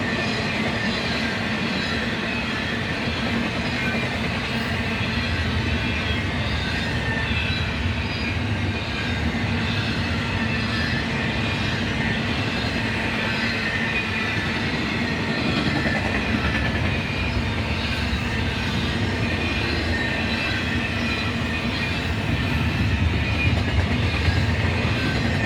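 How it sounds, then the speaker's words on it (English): A BNSF domestic intermodal freight train hauling 53-foot JB Hunt containers rolls past steadily, a continuous loud rumble with wheel clatter and faint squeal throughout. "This is so far domestic intermodal, 53-footer JB hunts,"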